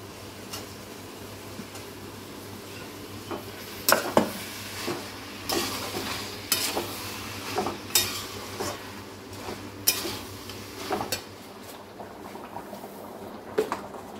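Lentils (dal) go into a cooking pan after the water has been absorbed, and a utensil clinks and scrapes against the pan in irregular stirring knocks over a soft simmering hiss.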